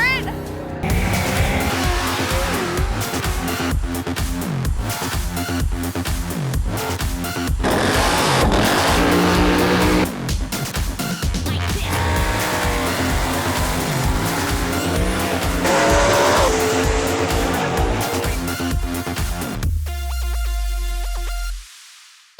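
A Ford Mustang drag car at a Maple Grove Raceway NMRA event roars hard down the strip, its engine note climbing and dropping through gear changes, loud and sustained, then cutting off abruptly at the end.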